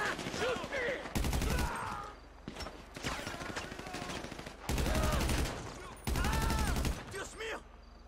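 Gunfire in the video game GTA V Online rings out in several loud rapid bursts between stretches of game sound, with people talking over it.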